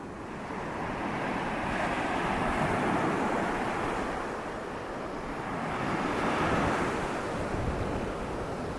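Steady roar of ocean surf with rolling swells, waves washing and breaking on rocks in a continuous broad rush, with some wind noise over the microphone.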